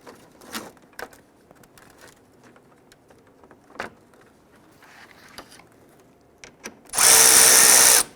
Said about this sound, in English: Now I'm just going to start to get these lower screws lined up and get them in a few threads.